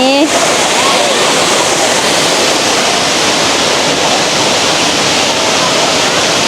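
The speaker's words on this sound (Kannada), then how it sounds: "ನಾನು ಇವಾಗ ಫಾಲ್ಸ್ ಹತ್ರ ಹೋಗ್ತಾ ಇದ್ದೀನಿ" Jari Falls in Chikkamagaluru pours with a steady, dense roar of falling water, loud and close, holding constant without a break.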